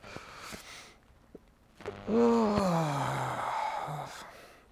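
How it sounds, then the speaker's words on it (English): Long, drawn-out human yawn during a yoga stretch, rising then falling in pitch and fading into a soft exhale, heard alone after a few quiet breaths. "if you like, you can yawn"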